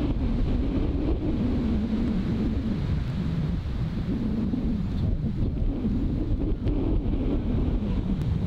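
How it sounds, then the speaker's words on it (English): Strong crosswind buffets the microphone on an open golf course, a loud, continuous roar with rough gusting surges and no talk. "Sideways wind."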